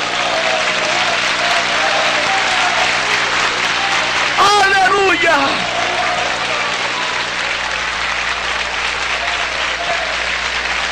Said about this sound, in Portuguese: Palmas para o Senhor Jesus Cristo